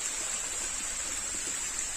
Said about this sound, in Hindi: बहुत नीचे से पानी जाता है